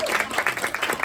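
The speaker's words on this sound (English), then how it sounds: "Round of applause." An audience in a conference room at a community meeting gives a short burst of clapping that fills the space for about a second.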